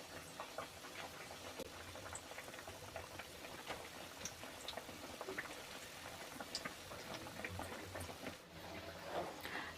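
Flipped egg-coated bread slices frying in hot oil give a steady, dense crackling sizzle with many small pops, continuous and close throughout.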